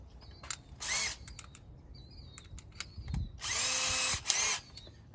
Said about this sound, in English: So we're gonna use that along with the drill gun